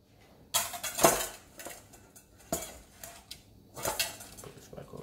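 A spatula scrapes and knocks around a bowl while folding pineapple upside-down cake batter, giving a few loud clattering bursts with quieter scraping between them, close by and with no talk.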